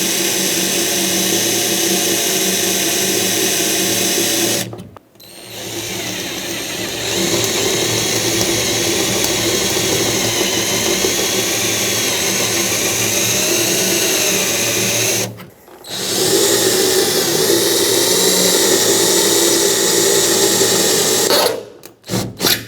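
A power drill works through a steel and aluminum rivet on a Ford E-350 door. It runs loud and continuous, broken by two short pauses, with no talk over it.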